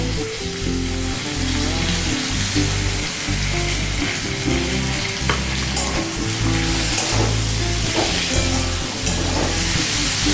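Tomato paste fries in a pan of aloo potol, giving a steady, loud, dense sizzle that runs unbroken throughout, with occasional soft spatters and stirring scrapes and no voices.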